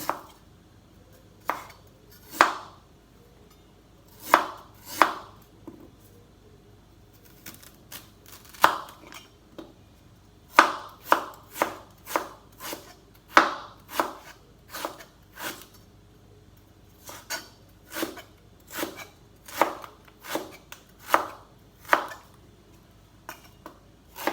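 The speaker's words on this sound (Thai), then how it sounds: "หั่น เป็นชิ้น บางๆเลยค่ะ" A knife slices ginger thinly on a cutting board, crisp knocks arriving in irregular bursts and quick runs, with brief pauses between them.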